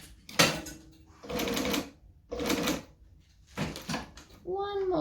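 Sewing machine stitching a bag lining with back stitching, short separate bursts of rapid mechanical whirring broken by pauses, ending with a person talking.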